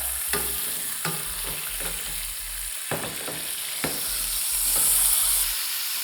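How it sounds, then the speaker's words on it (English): Ribeye steak sizzling in a pan as it is basted with its own juices: a continuous loud, close frying hiss broken by regular spoon clinks and scrapes, with no one talking. "You can even tilt the pan and kind of baste the steak with those juices that have been coming off."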